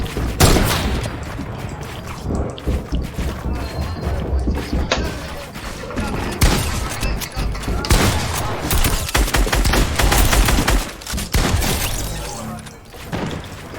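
Rapid, loud gunfire and crashing impacts from a Fortnite match, dense bursts running almost continuously through the clip, with excited voices talking over the shooting.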